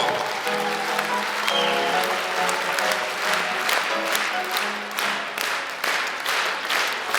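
Steady applause from a crowd, dense and sustained clapping throughout, with a musical tone fading underneath at the start.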